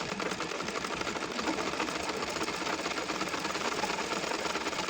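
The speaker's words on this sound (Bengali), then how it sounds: "এলাস্টিকের উপর সেলাই দিচ্ছি" An electric sewing machine stitches over elastic on a pair of pants, a steady rapid mechanical whirring and chatter that runs evenly and close by throughout, with no voices.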